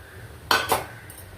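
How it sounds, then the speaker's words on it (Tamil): Chopped cucumber dropped into a metal pressure cooker pot gives two quick close clattering knocks, then a faint light clink, against a quiet kitchen background. "இப்போ நறுக்கி வச்சுருக்கிற வெள்ளரிக்காயையும் அதில் போட்டுடலாம்."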